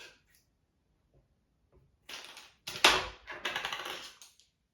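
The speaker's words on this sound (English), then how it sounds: "So I'm going to cut the straw in half with these scissors." A few quick, close snips of scissors cutting through a plastic straw, crisp and clicky, after a quiet start.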